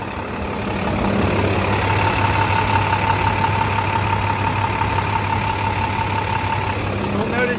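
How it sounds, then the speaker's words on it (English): A 2008 International 4300 dump truck with a diesel engine idles steadily, a loud, even rumble with a faint knocking texture that holds close and constant throughout. "The engine sounds healthy"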